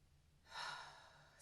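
One deep, slow breath drawn in during a quiet meditation, a soft breathy rush that swells and fades, close and faint against a still background.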